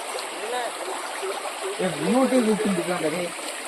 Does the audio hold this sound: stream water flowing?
yes